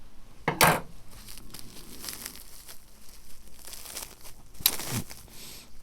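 Scissors slice open a plant shipping package with crisp crinkling and tearing of plastic or paper, giving two loud bursts at the start and near the end with quieter rustling handling in between and no speech.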